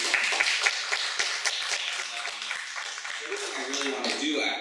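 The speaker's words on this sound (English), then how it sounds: "Let's give a huge round of applause for Nerissa." Audience applause at an artist talk, sharp individual claps from a modest crowd blending into steady clapping that fades as a voice begins speaking near the end.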